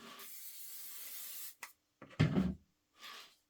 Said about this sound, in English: give one a little shot of spray in my spray tent